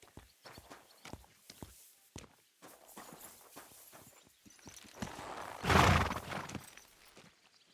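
A horse in a stable in Kingdom Come Deliverance II, with soft hoof clip-clops and shuffling steps, then a louder burst of stamping or snorting near the end, with no talk.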